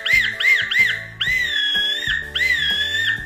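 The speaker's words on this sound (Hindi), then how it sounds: "सीटी का साउंड आपने सुन लिया" Small toy whistle from a snack packet blown in three quick shrill toots, then two longer warbling blasts, loud and close with nothing else heard.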